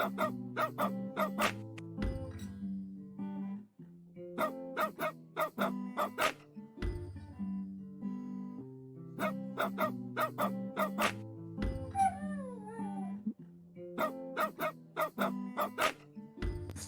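Rhythmic barking dogs set to a steady musical beat in the rhythm game Rhythm Doctor, yips repeating in bursts over bouncy backing music with a brief wavering tone near the middle.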